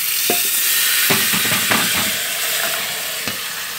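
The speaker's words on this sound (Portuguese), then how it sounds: "Isso aqui, galerinha, é refogando o alho" Garlic sizzles in a hot pan for an oxtail dish, a loud close hiss broken by several scraping stirs, with no talking.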